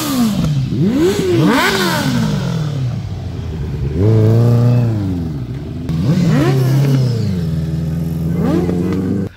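A Hero Xpulse 200 motorcycle revs hard during a jump, its engine climbing and falling in several loud, close surges, with a brief lull before the final burst.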